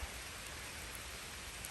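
Rain keeps falling during a summer walk in Wales, a steady, dense hiss of drops on surfaces that stays quiet and fairly even, with no voices.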